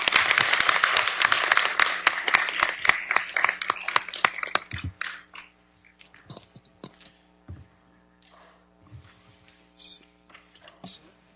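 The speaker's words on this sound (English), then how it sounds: "let's give our panelists a round of applause." Audience applause at a city council meeting, dense clapping from a crowd for panelists that swells loud for several seconds, then thins into scattered claps and room murmur.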